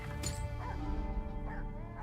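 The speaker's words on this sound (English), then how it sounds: "Is there a dog outside?" Dog barking in the video game Ghost of Yotei, a few sharp barks over a dense, steady in-game ambience with music.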